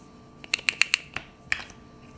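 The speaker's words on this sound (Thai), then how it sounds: "ท่านผู้ชมลองเขย่าดูนะครับจะดังครับดังหมดเลย" Small metallic clicks and jingles in quick bursts as Thai 10-baht coins are shaken, with a short pause before a final rattle; close and fairly quiet.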